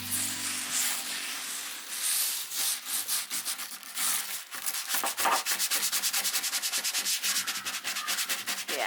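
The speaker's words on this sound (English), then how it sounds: "I just need to scrub it off." Steady back-and-forth scrubbing of softened chemical stripper off old wood furniture, close and continuous, the strokes quickening into a rapid rhythmic rasp in the second half.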